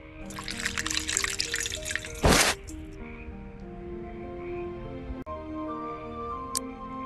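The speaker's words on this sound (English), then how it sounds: "Okay then, I'll siphon off some diesel." Diesel fuel being siphoned into a can in the game Preston Sterling: a steady close trickle and pour of liquid running alone, broken midway by one short loud gush.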